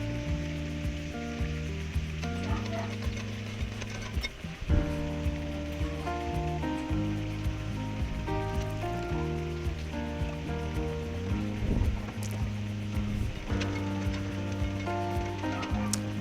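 Ginger and garlic sautéing in oil until golden brown, cooked for fried chicken with mushroom sauce: a soft, steady sizzle with occasional crackles, partly masked by background music.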